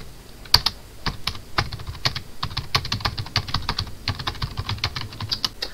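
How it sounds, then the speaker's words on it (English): Rapid, steady typing on a computer keyboard, close and clear, with quick irregular key clicks and no voices. "I will type something in chat"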